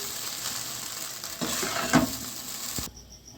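Fried spice stirred into chowmein in a pan, a soft frying sizzle with scraping stir strokes and a couple of louder clacks of utensil on metal, close and unaccompanied.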